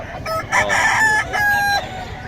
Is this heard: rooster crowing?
yes